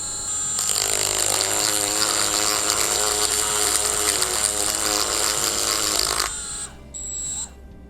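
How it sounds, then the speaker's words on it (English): A dressing stone rubbed against a spinning grinding wheel gives a loud, harsh, continuous grinding rasp for about six seconds, then stops, leaving the wheel's motor hum and a brief higher whine. "Now that you simply rubbed your dressing stone on your wheel"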